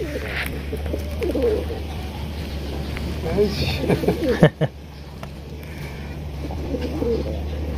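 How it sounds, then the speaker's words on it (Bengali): A pair of pigeons kept with their chicks coo softly in low, throaty bursts over a steady background hum, with no clear talking. "এখানে রয়েছে চমৎকার এক জোড়া কবুতর মাশাআল্লাহ"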